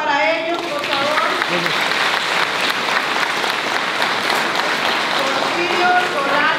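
A crowd at a Guadalupe torch-run gathering claps steadily and loudly for several seconds, with a voice heard briefly at the start and near the end.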